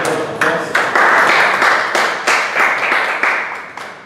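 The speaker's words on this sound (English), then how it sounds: "Please give a round of applause." Applause at a Toastmasters club meeting in Mussafah: a room of people clapping loudly and steadily for about four seconds, with bursts of fresh claps swelling the sound, no voices over it.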